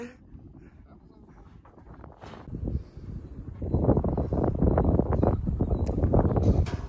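Gusty wind buffets the microphone with rumbling low-frequency bursts, growing louder partway through, while people talk over it while lifting a heavy lid onto a grain bin.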